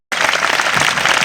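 Loud, dense applause starts abruptly and continues steadily for about a second, a close wall of many hands clapping at once.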